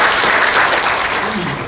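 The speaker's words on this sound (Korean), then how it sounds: "박수로 모시겠습니다." Audience applause rings out at a founding seminar in a Seoul press center conference hall, a steady burst of clapping from a seated crowd that holds evenly for under two seconds, with a faint voice murmuring underneath.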